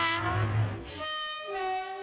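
A train sound effect opens a podcast segment: a low rumbling start gives way to a steady, sustained horn-like tone, moderately loud and heard alone without speech.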